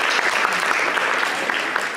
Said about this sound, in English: Give our freshmen a round of applause.